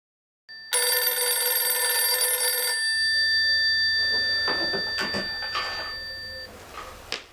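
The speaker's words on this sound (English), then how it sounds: "Early one morning, the telephone rang." An old-fashioned telephone gives a single loud, sustained bell ring lasting about two seconds, then a softer stretch with faint clicks and rustles follows.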